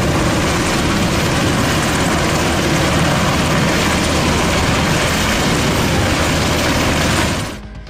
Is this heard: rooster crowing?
no